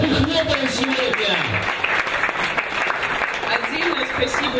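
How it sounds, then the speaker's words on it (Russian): A crowd at a Science Slam evening applauds steadily for several seconds, a loud, continuous patter of many hands, while a voice speaks over it and tonal sound runs faintly underneath. "Давайте покажем, как мы хлопаем сегодня!"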